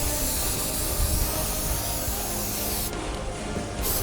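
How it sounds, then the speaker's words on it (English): A rattle can sprays a coat of primer during work on a Ford Raptor being fitted with Method Race trophy truck wheels, a loud continuous close hiss that holds steady with a brief dip near the end. "now let's go hit another coat of primer."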